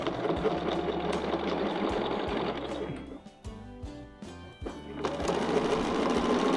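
A sewing machine stitches an oval loop in rapid, even mechanical bursts, runs loud and close, slows and thins out briefly midway, then resumes at full speed.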